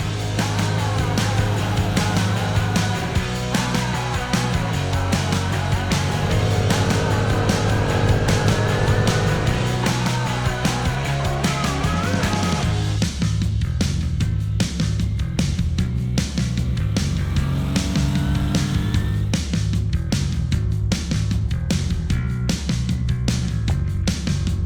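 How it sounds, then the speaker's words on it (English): A Polaris Outlaw 50 youth quad ATV is ridden, its small engine buzzing loud and continuous, revving up and down with shifting pitch throughout, with no voices heard. "The Polaris Outlaw 50 is running great, which is excellent."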